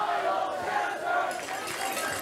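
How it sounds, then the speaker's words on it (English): A North Haven high school football crowd chanting for a player after an 8-yard carry. Rhythmic group shouts rise and fall at a distance across the stands. "you actually hear some of the North Haven crowd chanting for Miles Chester after getting the carry of 8 yards"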